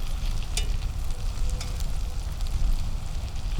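Potatoes sizzling in a cast iron pan while being stirred and moved around, a loud steady frying hiss with scraping and clattering touches, close by and with no talking.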